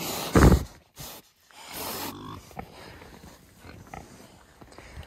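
Pigs grunting and snorting inside an insulated pig barn: a loud close snort burst near the start, then a run of softer, low grunts and rustling nearby.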